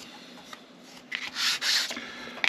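A foam sanding pad rubs back and forth over a wooden mast piece for a model ship, a soft steady scraping that swells louder toward the end, close and alone.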